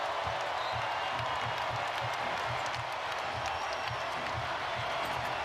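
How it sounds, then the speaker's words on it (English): A basketball arena crowd at a 2019-20 ACC men's game between Georgia Tech and North Carolina roars loudly and steadily, with cheering and a dense wash of voices that holds throughout. "Crowd to its feet."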